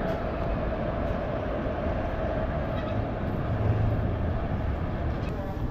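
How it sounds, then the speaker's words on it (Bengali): The Jammu Tawi Express pulls out of Gaya Junction with a steady, dense low rumble and hum heard from inside an AC coach, continuous and fairly loud throughout. "তো আমাদের ট্রেন এখন ছেড়ে দিল গয়া জাংশন থেকে"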